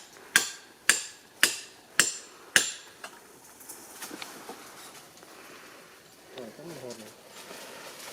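Sharp hammer strikes drive wooden climbing pegs into a tree trunk during wild honey hunting: five loud, evenly spaced blows over about two seconds, followed by softer knocks and background rustle with voices faintly present.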